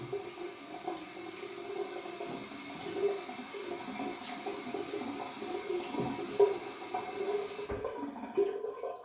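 Running water from a tap rinses hands after a shave, a steady faint splashing and trickling close by with small intermittent splatters, and no talking.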